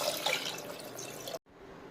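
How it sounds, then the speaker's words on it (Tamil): Broadband rushing water pours steadily into a cooking pot of lentils for over a second, then cuts off abruptly, followed by quieter trickling and settling. "பருப்பு வேகிறதுக்கு ஒரு 1/2 லிட்டர் தண்ணி சேர்த்திக்கலாம்"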